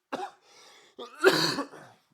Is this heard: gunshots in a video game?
no